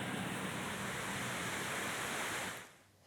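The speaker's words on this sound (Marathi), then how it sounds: "सर्व धरणं पूर्ण क्षमतेने भरून आता ओसंडून वाहू लागलेली आहेत" Water overflowing the Tinvira dam in Raigad after very heavy rain makes a loud, steady broadband roar like a waterfall. It holds constant for about two and a half seconds, then drops away sharply.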